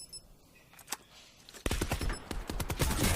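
Rapid automatic gunfire from a close-range fight in the Call of Duty Black Ops 4 video game, including an ICR rifle, erupts loudly after a few scattered single shots and continues in dense bursts.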